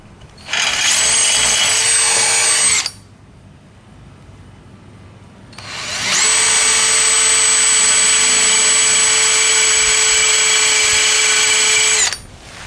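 Power drill boring holes in a metal trailer tongue while a folding tongue kit is installed, a loud high whine in two runs, a short one and then a longer sustained one, with a quiet pause between.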